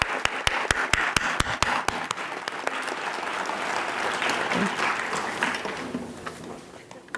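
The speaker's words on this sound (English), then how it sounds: "You can clap." An audience applauds nurses at a nursing candle lighting ceremony: a few loud, sharp claps open before a dense, steady wash of crowd clapping fills the room, easing slightly toward the end.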